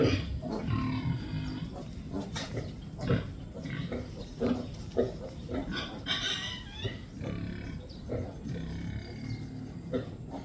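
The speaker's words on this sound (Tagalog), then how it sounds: "Sisigla na po yung mga biik niya. Dalawang biik niya, oh." Two lively piglets on a farm grunt and squeal in quick, irregular bursts, close by and fairly loud, throughout about ten seconds of continuous snuffling, with faint human voices now and then in the background.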